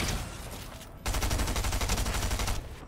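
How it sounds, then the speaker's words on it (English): Gunfire in a cash-cup video game match comes through a wall as a loud, rapid stream of shots, a steady burst that swells sharply midway and then eases off. "Whoa, I'm getting shot through the wall."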